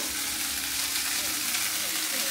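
Mustard flowers frying in a pan, a continuous loud sizzle and crackle close up, steady throughout with no gaps.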